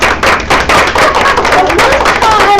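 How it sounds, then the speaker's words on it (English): An audience at a social media Q&A session breaks into applause: loud, dense, close clapping from many hands that fills the moment without a pause. "Let's give her a round of applause for that."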